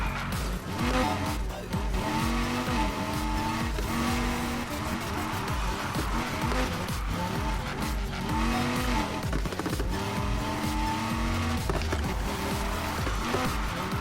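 A Lamborghini Huracan drifts in Need for Speed Heat, its engine roaring and revving through gear changes while tires squeal and skid almost without pause, loud and close.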